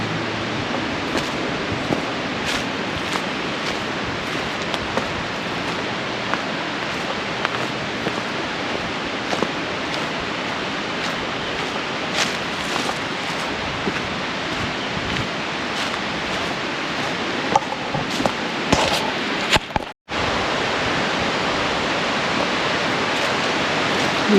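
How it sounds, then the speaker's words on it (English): Springs and a headwater stream run at Tank Creek Nature Preserve on Fieldstone Farm, a steady, full rush of flowing water that fills the scene without a break, dipping out only briefly for a moment before resuming. "I'm hearing a lot of water."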